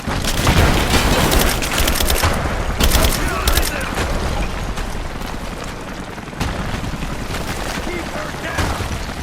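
Gunfire in Rise of the Tomb Raider, sharp bursts and rattling volleys with booming impacts crowding the whole stretch, loud and close, while voices shout over the combat.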